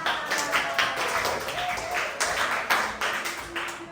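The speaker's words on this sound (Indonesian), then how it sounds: "Oke, tepuk tangan untuk kita." A classroom of students claps together after a lesson on the planets, a dense, scattered patter of hands at steady loudness, with a few voices calling out over the applause.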